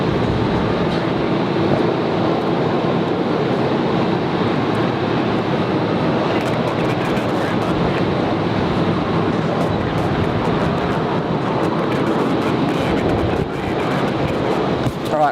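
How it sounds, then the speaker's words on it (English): A Jetstar Airbus A330-200 arriving from Cairns at Brisbane Airport produces a steady, loud, broadband jet roar that holds constant throughout, with no talk over it. "Jetstar 931 coming in from Cairns, A332"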